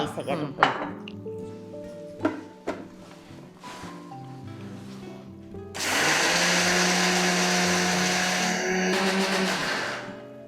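A few clinks and brief voices, then a mixer grinder starts up and whirs loudly and steadily for several seconds, grinding chutney with a little water.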